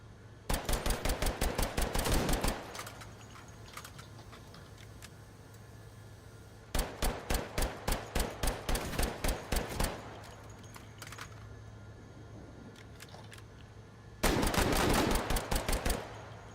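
Rapid bursts of pistol gunfire in a game, three volleys of quick sharp shots, each run of about a dozen rounds, loud and close with short gaps of quieter background between bursts.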